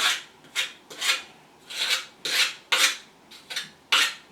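A trowel spreads thin mortar onto the back of a subway tile for a bathtub surround in repeated rasping strokes, about eight evenly spaced scrapes, close and clear with no voices.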